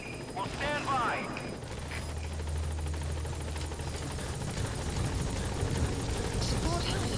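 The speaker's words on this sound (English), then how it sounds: "Support helicopter has arrived." In the video game Metal Gear Solid V, a support helicopter arrives with a steady low rotor drone under brief game sounds at the start.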